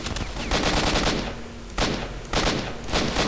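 Gunfire in the video game STALKER: Shadow of Chernobyl, several quick bursts of sharp shots with echoing tails, loud and close, with no talk.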